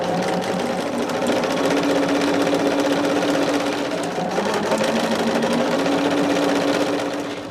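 A sewing machine runs steadily, close and loud, stitching rows of quilt blocks together for a Christmas gnome pattern, its motor hum continuous with a slight dip near the middle and no talk.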